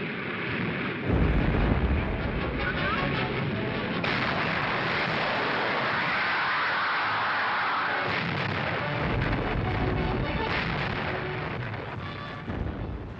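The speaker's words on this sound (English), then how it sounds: "you will see salvos from the Bismarck failing to hit one of our battleships" Naval gun salvos from the battleship Bismarck on archive film, heard as a dense, loud, continuous roar of heavy booming blasts and rumbling that fills the whole stretch before easing slightly at the end.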